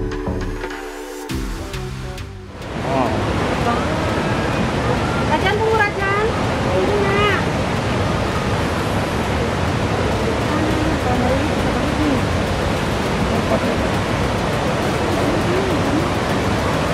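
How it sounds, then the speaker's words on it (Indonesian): Curug Cimarinjung waterfall roars as a loud, steady rush of falling water. It comes in after a short quieter start and continues to the end, with faint voices now and then. "Nah ini Curug Cimarinjung,"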